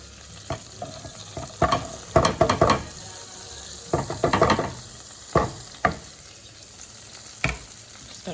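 Garlic and green onions sizzle loudly in hot butter in a close pan, a steady frying hiss broken by repeated scraping bursts of stirring.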